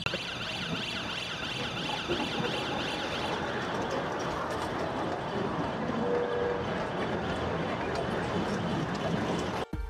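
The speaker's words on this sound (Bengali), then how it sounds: "এখানে কিন্তু সিগন্যাল বাজতেছে, তার মানে খুব শীঘ্রই এখান থেকে ট্রেন আসবে" An amusement park train approaches with a warning signal sounding, and steady broadband rumble and whine fill the whole stretch at fairly even loudness.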